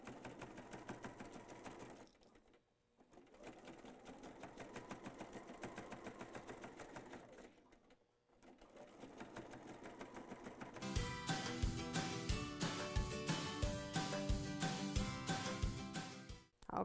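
A sewing machine runs in steady bursts with two short pauses, then speeds into a louder, rapid mechanical stitching rhythm near the end.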